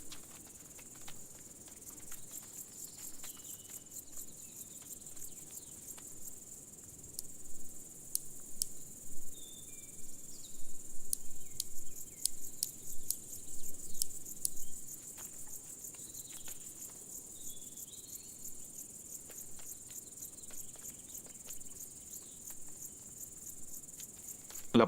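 Grasshoppers chirp continuously in a steady, high-pitched insect chorus, with a brief stretch of louder rustling patter in the middle; no voices.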